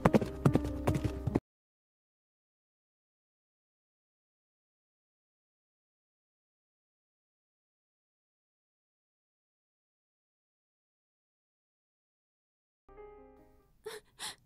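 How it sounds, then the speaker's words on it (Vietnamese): A cartoon horse-galloping effect plays as a quick burst of clip-clop hoofbeats, close and brief, then long silence before faint sounds near the end. "Em lấy ngựa phóng về phía khu rừng"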